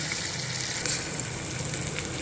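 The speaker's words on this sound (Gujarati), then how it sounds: "ટમેટા નાખીને આપણે હલાવી દઈશું પછી આપણે કડી કરવા દઈશું એને" Tomatoes frying and being stirred in a pan, with a steady close sizzle throughout and a brief louder spatter near the middle.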